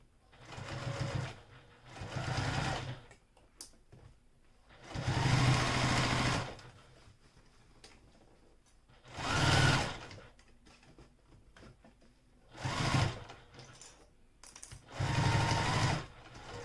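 A sewing machine stitches close by in several loud running bursts of a few seconds each, separated by quiet pauses while fabric is repositioned, finishing with a back stitch.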